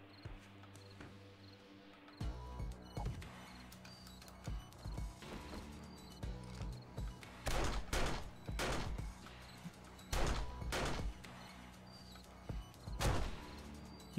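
Gunfire from the video game 7 Days to Die, a run of sharp bursts and single shots in its second half over a mechanical, creaking game background, moderately loud and without talking.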